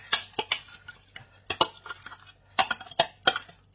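Chopped onions tip from a container into a pan on a home stove during homemade burger and fries prep, giving a series of sharp clinks and scrapes in uneven bursts, close and fairly quiet, with no talking.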